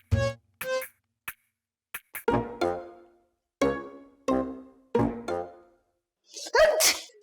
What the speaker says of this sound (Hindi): हाँ वो ऐसी छींक आ गई थी मुझे तो